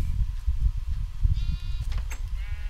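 Baby sheep bleating in a game world, a few short wavering cries over a low rumbling background, fairly close and without talk.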